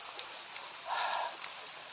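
Rain falling outdoors in a forest, a steady faint hiss of drops throughout with a brief louder swell near the middle.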